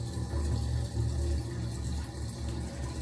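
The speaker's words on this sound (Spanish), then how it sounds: "Cuando estoy en el baño y escucho este sonido del agua" Steady running water in a bathroom, a continuous low rushing flow from a tap with no breaks, fairly loud and alone without voices.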